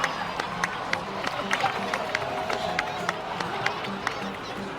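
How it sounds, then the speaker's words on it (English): A crowd in the video game Genshin Impact claps and cheers loosely, scattered sharp claps over a murmuring background of voices and game ambience. "please give another round of applause for them"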